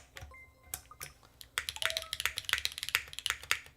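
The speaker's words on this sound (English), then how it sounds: "this is really punching out the top end of what this keyboard sounds like" Typing on a TB-65F mechanical keyboard: a few scattered key clacks at first, then a rapid burst of sharp, close, bright clicks and taps, loud and alone.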